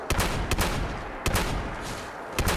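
Gunfire in Fallout 76 aimed at a bear, with several sharp shots spaced irregularly across a couple of seconds, loud and close over a dense game background.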